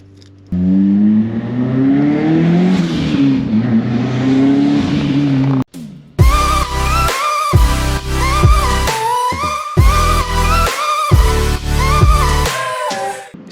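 A 1994 Nissan Sentra B13 with a 1.6 turbo engine and an exhaust cutout revs loudly and close for about five seconds, its pitch climbing and holding. Then it cuts off and rhythmic, beat-driven music takes over, with no talking.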